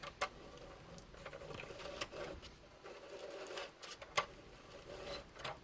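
Quiet clicking and soft rattling as a Xyron sticker maker is hand-cranked, feeding a metal word through its adhesive rollers; faint irregular mechanical ticks and rubbing, close by, with no speech.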